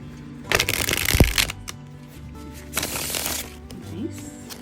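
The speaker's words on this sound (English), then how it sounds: "Has a good shuffle." A tarot card deck is shuffled by hand, with two bursts of riffling and fluttering card noise up close, separated by quieter handling.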